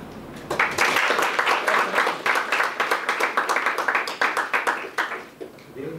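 Lecture audience applauding at the end of a scientific talk, a dense, steady wash of many hands clapping, fairly close and sustained, tapering slightly near the end.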